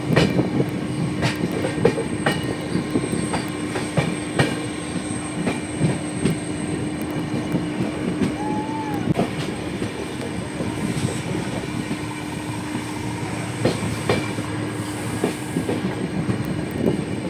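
A passenger train runs steadily on its tracks on the line from Guwahati toward Agartala, its continuous rumble and clickety-clack loud and close throughout, with no voices.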